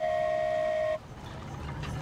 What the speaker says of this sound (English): ride the express train